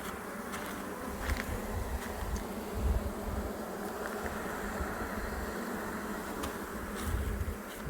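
Honey bees buzzing steadily around an open hive during inspection, a dense continuous drone close by with occasional louder passes of individual bees.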